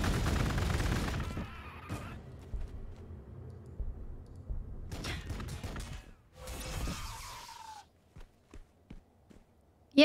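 Gunfire from Sisters of Battle units in Warhammer 40K Gladius: a loud opening volley, then further crackling bursts with a whining tail, followed by scattered sharp clicks and taps.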